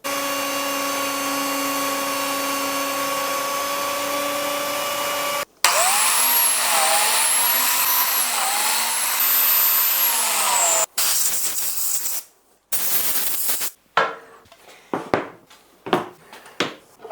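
A loud planer drones steadily, then shifts into a rougher, surging roar as live-edge walnut boards are fed through, ending in choppy bursts and pauses.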